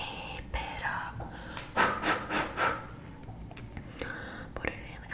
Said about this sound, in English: Put it in and then scrape it up.